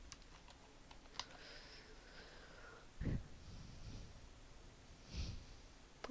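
Quiet computer keyboard taps as a short word is typed, a few soft clicks spread across a few seconds, with breathy snorts and exhales nearby.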